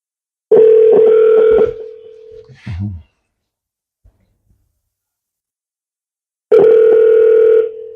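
A steady telephone dial tone sounds close and loud when calling back. It cuts off, then a brief handling clatter follows, several seconds of silence pass, and the same tone starts again.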